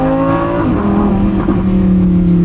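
A 2023 Lamborghini Huracán Sterrato engine pulls steadily under acceleration, its loud, close, continuous drone rising gently in pitch for a couple of seconds from inside the car on a canyon and highway drive.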